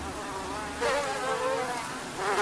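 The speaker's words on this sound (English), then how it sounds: "over here, we have the mass-produced mosquitoes getting ready to give us the eggs to go out directly into the field." A swarm of mass-produced mosquitoes in a breeding lab buzzes steadily and close. The whining hum stays continuous and swells louder partway through, with no one speaking.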